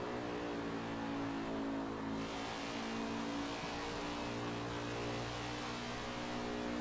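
A NASCAR race car engine in iRacing drones and revs continuously, a loud, close mechanical howl holding steady pitch with slight shifts, and no talking over it.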